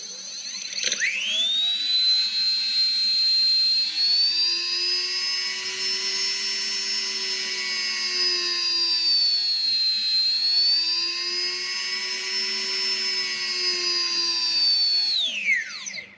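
A high-speed BLDC motor spinning up to around 130K RPM, a loud, steady whine with strong harmonics that shifts pitch several times as the speed is changed by potentiometer, then winds down at the end.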